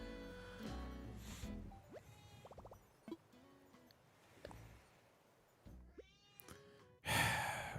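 A cat making loud meows and drawn-out screaming calls, with several separate cries spread through the clip between quieter pauses, and a sudden loud noisy burst at the end.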